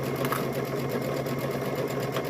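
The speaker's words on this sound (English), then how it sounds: "And then we're going to sew all the way around." A sewing machine stitches around the fabric pieces of a stuffed bear, a steady, close, rapid needle chatter running without pause.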